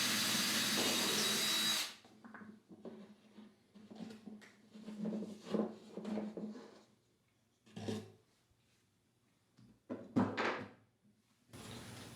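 After a brief burst of loud noise, a power drill whirs in short bursts, boring barrel-nut holes through the wooden heel block of a guitar neck, with grinding pauses and clunks between runs.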